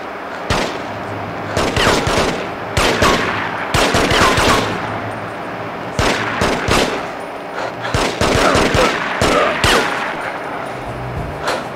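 Repeated bursts of gunfire in the video game The Getaway, loud rapid volleys that come in clusters separated by short gaps, with automatic fire running through the whole stretch.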